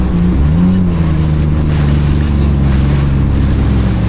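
A motorboat speeds across the open sea off Dubai, its engine a steady loud drone mixed with rushing water and wind noise, continuous throughout with no talk.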